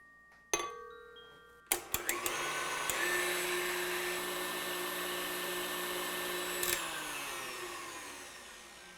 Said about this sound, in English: Did you know when you're whipping cream, or even egg whites for that matter, you don't have to whip them on high speed?